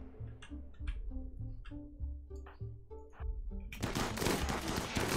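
Gunfire in the colony game RimWorld, a rapid series of short, evenly spaced shots ending in a burst of noisy impacts, fairly faint behind background music.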